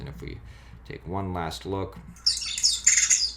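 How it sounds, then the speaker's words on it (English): Birds squawk and chirp in high, bright bursts that come in over the last second, following a voice talking in the first part. "you can hear those birds chirping away"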